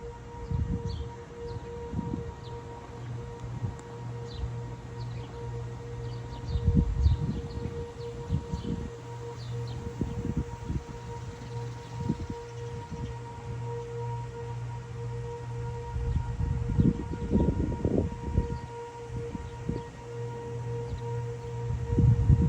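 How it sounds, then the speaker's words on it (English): A steady civil defense siren tone drones continuously in the distance ahead of an approaching storm, with low rumbling wind gusts and outdoor background noise rising and falling throughout. "Sirens are going off."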